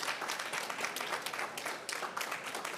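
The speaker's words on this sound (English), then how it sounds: "A big round of applause for her" An audience at a COP29 climate dialogue on livestock gives a round of applause, steady dense clapping heard at a moderate distance, continuous and fairly even throughout.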